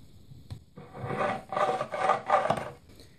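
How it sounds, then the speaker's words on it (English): A burnisher drawn along the edge of a steel card scraper to turn a burr in a woodworking shop, heard as a few soft rasping strokes that grow steadier and louder, close up with no talking. "Get it almost flat and up very slightly and turn the initial burr."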